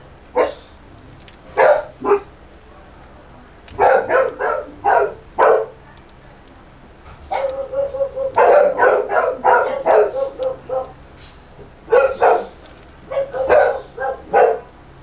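Several dogs bark at someone arriving at the front door of a house, loud clustered bursts of barking that come in bouts separated by brief quiet gaps, with no talking.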